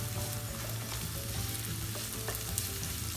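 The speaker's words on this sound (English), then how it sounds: "After garlic, I'm going to put these carrots, and again quickly mix it." Carrots tossed with garlic in a pan over a hot flame give a steady close sizzle with soft stirring scrapes, continuous with no pauses or talk.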